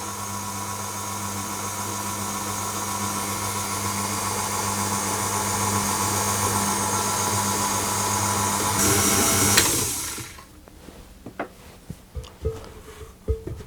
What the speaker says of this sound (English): I'm using my dough hook because this dough will get quite stiff as it mixes